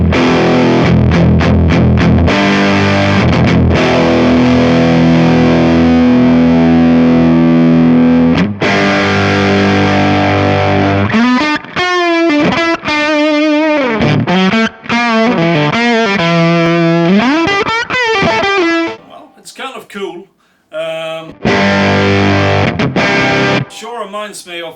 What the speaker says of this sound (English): Should give a fuzz-like sound, I think.